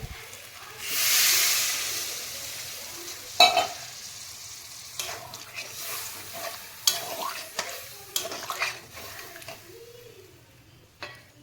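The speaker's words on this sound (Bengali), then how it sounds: "কষিয়ে নিয়েছি, এবার জল দিয়ে দেবো।" Water poured into a pan of sizzling egg soya curry sets off a loud hissing burst, followed by scattered scraping and clinking as a spoon stirs the gravy.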